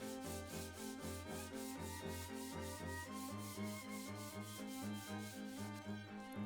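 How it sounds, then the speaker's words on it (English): A wooden spear shaft for a Viking wolf-tooth spear is sanded by hand in quiet, steady, rhythmic rubbing strokes, with soft background music running underneath. "Once the wood is sanded"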